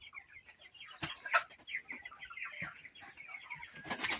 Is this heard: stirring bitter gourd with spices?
no